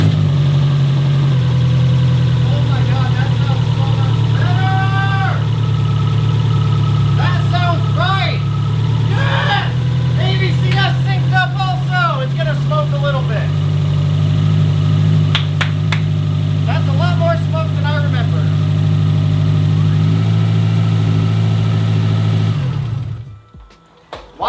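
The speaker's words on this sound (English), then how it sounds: "Okay, the car sounds better to start with." A 2005 Subaru STI engine fires up and settles into a steady, low idle, running close and continuously for over twenty seconds while people talk over it, then cuts off at the end.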